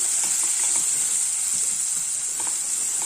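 Cinnamon and tomatoes sizzle steadily in a hot pan with a constant bright hiss, a few soft stirring taps underneath, no talking.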